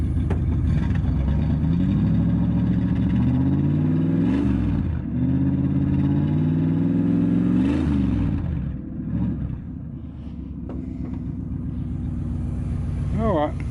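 A 1973 Dodge D100 pickup's engine runs loud and close after ten years without starting, rising and falling through several strong revs over a steady idle, with a voice briefly audible near the end.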